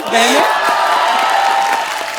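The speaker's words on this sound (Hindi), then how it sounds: "आज हमारे शो पे 2 बहनें आई हैं, जोरदार तालियां हो जाएं।" Studio audience on a Hindi comedy talk show breaks into applause and cheering, a dense crowd wash with a few whoops holding steady for about two seconds.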